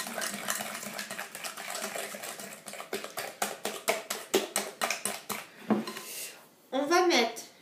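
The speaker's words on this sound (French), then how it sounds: "Donc on va mettre l'œuf. Donc on remue encore." A spoon beats cookie dough with an egg in a bowl in a quick run of close, rhythmic scraping taps that speed up toward the end, followed by a short burst of louder clatter.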